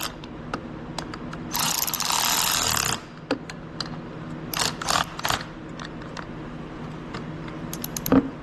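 A hand ratchet tightens a bolt on a quad during a carburetor install: one steady, fast burst of ratcheting clicks, then scattered short clicks and taps, close and clear with no talking.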